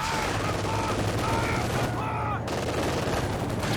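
Dense, sustained gunfire from Company of Heroes 2, a World War II strategy game, with rapid bursts of machine gun fire over a steady low rumble of battle and sounds of combat that never let up.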